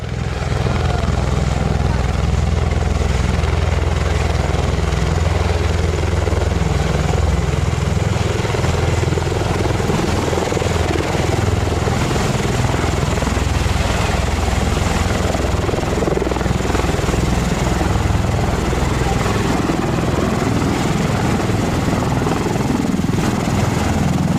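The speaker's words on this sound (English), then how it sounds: "The American converter plane, the Bell Boeing V-22 Osprey, lands at Glen Island Park in New Rochelle on Memorial Day." Bell Boeing V-22 Osprey tiltrotor landing at a park on Memorial Day, a loud, steady rotor roar and deep rumbling throb sustained throughout, close and overpowering with a broadband wash of downdraft noise.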